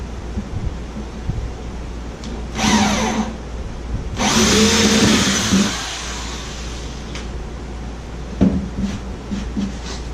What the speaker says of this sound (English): just drill a pilot hole here